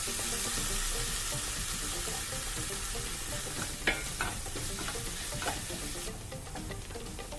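Tomatoes sizzle steadily in a pan for a Kerala-style coconut chicken curry, with a few light stirring scrapes and clinks of a spoon partway through, close and fairly quiet.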